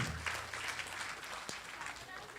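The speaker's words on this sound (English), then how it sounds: "Give yourself a round of applause." Faint, steady clapping from a gathered audience at a spiritual discourse session, with a low murmur of voices under it.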